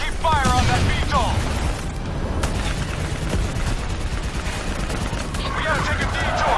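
Sustained gunfire from Call of Duty Black Ops 3 on Xbox One, dense rattling bursts aimed at a VTOL aircraft amid a loud battle din, with voices shouting over it.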